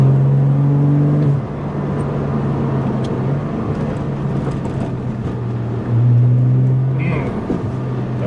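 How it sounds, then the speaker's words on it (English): A Porsche with a PDK gearbox drives in Sport Plus mode, its exhaust droning loudly and steadily and rising with the revs through held gear changes. "it's holding the gear shifts longer because I'm in Sport Plus mode. Yeah, then you get more of the sound of the exhaust."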